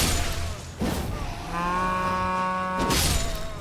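A person imitates a cow with a long, drawn-out vocal moo, loud and close, sounding alone between brief bursts of noise.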